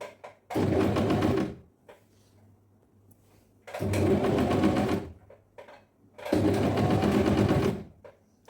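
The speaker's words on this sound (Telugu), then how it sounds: "ఫస్ట్ ఇక్కడ నుంచి ఇక్కడికి స్టిచ్ అనేది వేసుకుందాం." Three separate, evenly spaced bursts of a sewing machine running close up, each about a second long with a steady whir, stitching the side slits of a kurti, with quiet pauses between bursts.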